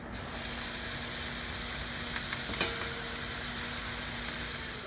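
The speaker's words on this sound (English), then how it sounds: "I'm just going to add these onions and I'm going to saute them until they're clear" Onions sautéing in oil in a pan for a North African lamb or goat curry, a steady close hiss and sizzle with a couple of faint stirring taps and a low steady hum underneath.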